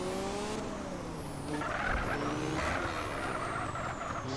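A car engine in GTA San Andreas whines with shifting pitch while tires skid and screech, dense game-style driving noise at moderate volume.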